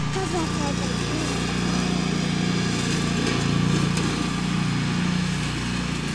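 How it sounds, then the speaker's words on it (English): A lawn mower engine runs steadily throughout, loud and close, a continuous buzzing drone with no breaks, while people speak in the background. "I thought you didn't like the lawnmower."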